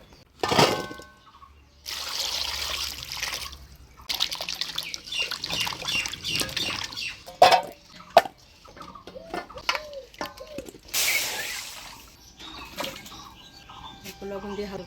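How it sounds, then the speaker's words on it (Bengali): Potatoes being rinsed and rubbed clean in water in a home kitchen, with intermittent splashing and swishing bursts near the microphone, broken by short pauses and light clinks, while a voice talks over parts of it. "আলুটা পরিষ্কার করে ধুয়ে একটু গরম জলে সিদ্ধ করে নেব"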